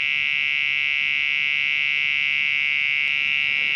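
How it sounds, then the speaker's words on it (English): Steady, loud electronic buzzer tone from a Compaq LTE 386s/20 laptop under repair, one continuous unbroken whine holding for several seconds with no talk. "The buzzer here is buzzing."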